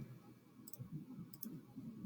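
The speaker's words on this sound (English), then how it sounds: "so I'm going to type it in my calculator" Two faint, quick bursts of small plastic key clicks as numbers are tapped into a calculator, over a quiet low hum.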